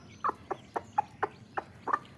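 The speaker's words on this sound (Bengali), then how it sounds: "তার ভিতরে একটা মুরগি আজকে বাচ্চা দিয়েছে" A hen with newly hatched chicks clucks in a steady rhythm, about eight soft, evenly spaced clucks at close range. The chicks themselves are not distinctly evident.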